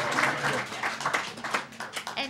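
Moderate, fairly close applause from the audience at a school board meeting, uneven clapping bursts that rise and dip irregularly over a couple of seconds.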